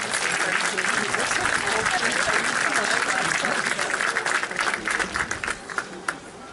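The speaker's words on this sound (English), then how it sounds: "So a big round of applause to both of our bands today." Outdoor crowd applauding two bands at the Beamish Old King Coal Parade, a sustained wash of clapping that thins toward the end, with voices mixed in.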